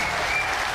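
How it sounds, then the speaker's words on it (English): A Republican-leaning audience at a CNN-hosted voter conversation with Donald Trump breaks into cheering and applause, a dense, steady wash of clapping that fills the whole moment. "he was cheered and applauded"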